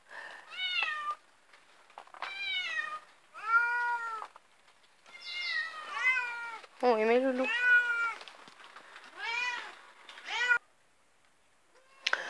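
Cats at a cat hotel with bungalows that house two or three cats from the same family meow over and over in clear, rising and falling calls. A few quieter voices murmur faintly between the meows.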